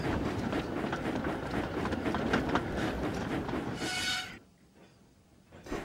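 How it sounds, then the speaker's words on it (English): A train rumbles loudly along the rails with a steady rolling clatter, then the sound drops away abruptly near the end, leaving quiet. "They brought the train back to the bottom of the hill."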